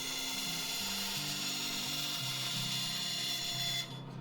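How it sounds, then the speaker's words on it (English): A bandsaw cuts a layered wood blank for a turned ring, giving a continuous high squealing whine over a low, wavering motor hum that runs for about four seconds before dropping away. "Get to hear the irritating squeal of the bandsaw."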